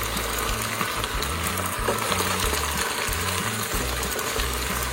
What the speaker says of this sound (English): it's really starting to sizzle up here.